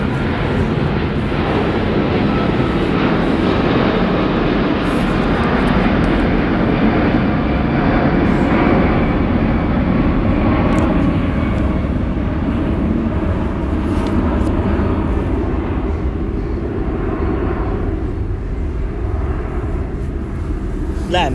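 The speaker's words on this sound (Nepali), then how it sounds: "प्लेन उड्यो" A fixed-wing airplane passes overhead as a loud, sustained engine roar lasting about twenty seconds, steady throughout and fading only slightly toward the end.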